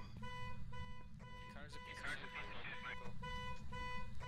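A car alarm in the ghost-hunting game Phasmophobia blares in steady repeating tones while someone talks over it, his voice rising loudly partway through.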